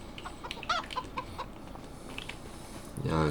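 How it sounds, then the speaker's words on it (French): Hens clucking with a rooster in Farming Simulator 25, short game-audio calls repeating at moderate level over a steady background bed, with a louder burst near the end. "Il y a un coq et les poules."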